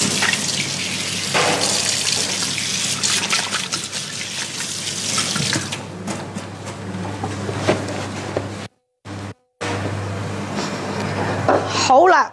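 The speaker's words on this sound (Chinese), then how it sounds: "好啦，咁我洗乾淨咗手啦" Hands are washed under a running kitchen tap while cooking spicy soy-sauce shrimp pasta, a steady broadband trickle of water lasting several seconds, then a brief cut, with faint background hum.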